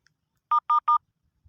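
Three short, evenly spaced telephone dialing tones beep cleanly as a call begins, alone in near silence.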